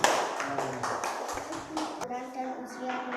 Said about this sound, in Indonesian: Sudah tepuk tangan dulu.